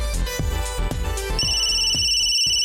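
A phone in Ace Attorney: Spirit of Justice rings loudly and alone, with repeated pulsing chimes that settle into a steady electronic tone.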